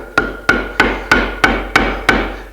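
Seven sharp, evenly spaced mallet blows drive a sharp chisel through waste wood in a woodworking shop, each strike loud and close with a short ringing decay, no voices.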